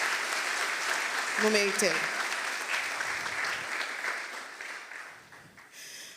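Applause from the audience at a youth leadership forum in Haiti rises to a broad, steady clatter of clapping with a voice speaking over it, then slowly thins out.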